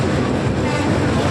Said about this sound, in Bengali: ট্রেন যাচ্ছে